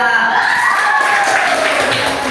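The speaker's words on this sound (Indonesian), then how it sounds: "Beri tepuk tangan pada kelompok 3" Classroom applause for a student group at a high school, a short steady wash of clapping hands from several people in a room.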